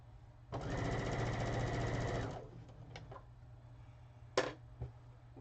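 A sewing machine runs a steady, fast stitching burst across quilt fabric for about two seconds, sewing from clip to clip, then stops, leaving a few faint clicks and a sharp knock near the end.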